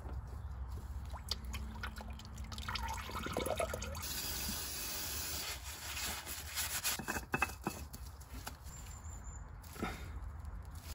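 Engine oil draining from a car sump during an oil change, a faint continuous liquid pour and trickle with occasional drips and light rubbing handling noises, steady throughout with no talking.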